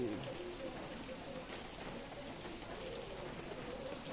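Steady rain from a typhoon falls in Tanay, Philippines, a soft constant hiss with occasional faint bird calls in the background.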